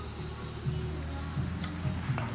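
Rendang simmers in a black iron wok over a firewood fire, a soft continuous sizzle with faint scraping stirs and small crackles, close and low in level.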